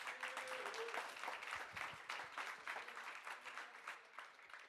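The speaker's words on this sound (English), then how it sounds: "Round of applause for Fiendish." Applause from a live event audience after a prize announcement, steady moderate clapping with a faint tonal sound near the start and low thumps underneath.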